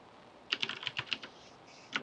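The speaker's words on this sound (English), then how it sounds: "I'm sure you can hear that keyboard" A new computer keyboard being typed on nearby, a quick burst of crisp key clicks, a short pause, then a couple more keystrokes.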